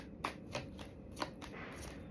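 Tarot cards being shuffled and drawn, several soft papery riffles and slaps spaced irregularly, close by and fairly quiet, with no voices.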